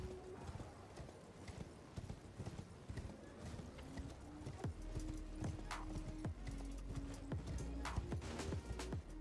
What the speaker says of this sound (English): I think there's a horse dude behind me, but he should stop following me